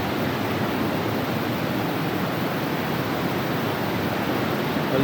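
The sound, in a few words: strong river current at Wawa Dam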